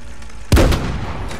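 A tank cannon fires once in the video game Panzerstorm, a sudden loud boom that rolls off into a short rumbling decay, with no voices over it.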